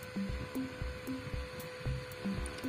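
A small, fast cooling fan runs beside a W1209 thermostat for an off-grid solar inverter, holding a steady whir with a constant tone. Faint repeating clicks and thumps tick along underneath.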